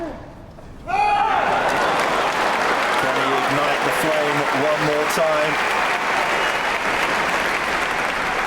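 Wimbledon tennis crowd at a 2013 semi-final bursts into sustained, loud applause that swells suddenly after a quiet moment and rolls on steadily, with a brief voice rising over the clapping.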